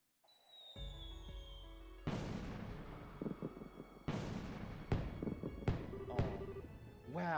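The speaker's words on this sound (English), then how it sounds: "Wow, fireworks are so pretty." Fireworks burst in the video game Trails in the Sky the 3rd: several sharp booms a second or two apart, each trailing into crackle, over a low rumble with faint tones beneath.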